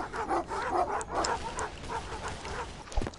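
Dogs in a VR video game bark and yip in quick repeated bursts, moderately loud and close, with a short thud near the end.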